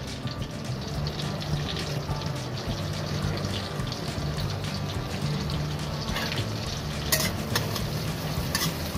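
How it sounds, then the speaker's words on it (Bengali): Chopped garlic hits hot vegetable oil and is stirred, giving a close, continuous sizzle with scraping utensil noises and a low hum beneath. "প্রথমেই আমরা রসুন কুচিটা দিয়ে দিচ্ছি এটার মধ্যে"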